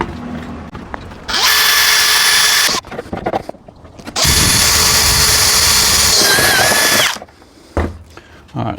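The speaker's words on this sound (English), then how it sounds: "Now we're just going to use the 10mm bit to finish it." A power drill with a 10mm bit drilling holes, two long loud whining bursts of several seconds each, separated by brief pauses and softer handling noises.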